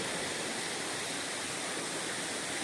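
Stream water flows at a campsite along a Virginia hiking trail, a steady, loud rushing wash that continues without a break for the whole stretch.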